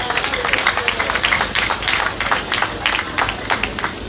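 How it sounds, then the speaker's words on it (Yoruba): A church audience applauds a royal family's children, the Olori of Olo among the honourees, with dense steady clapping that holds for several seconds and carries faint talk beneath it. "Ẹ jọ̀ọ́ ẹ bá mi pàtẹ́wọ́ fún àwọn ọmọ mi wa."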